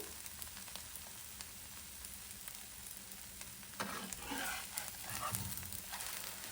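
Ravva dosa roasting on a hot pan, a steady broadband sizzle and crackle that grows louder and busier in the second half, with no talking.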